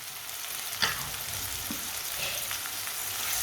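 Finely chopped tomatoes, green chili and garlic sizzle in a pan for a turnip (shalgam) curry, giving a steady hiss with one sharp stir or clatter near the start and a few softer scrapes after it.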